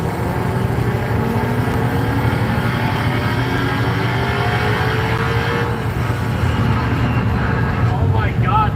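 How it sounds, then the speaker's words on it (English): A car engine runs steadily inside a moving vehicle, capable of revving to about 8,250 RPM, with rising harmonic tones of the engine climbing over a constant loud road and drive roar while a person talks. "Oh my god, this engine sounds good."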